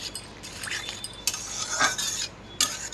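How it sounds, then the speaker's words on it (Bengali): A spoon stirs a potato and egg curry in a metal pan after salt goes in, producing a few scraping strokes and light metallic clinks in short bursts, close and clear, with no talking. "নুনটা দিয়ে একটু নাড়িয়ে দেবো।"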